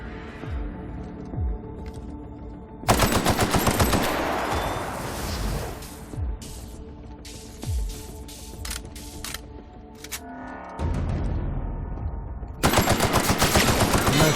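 Bursts of automatic gunfire from The Outer Worlds on PS4 rattle in dense rapid volleys, broken by short lulls with single shots and clatter, then loud sustained firing resumes near the end.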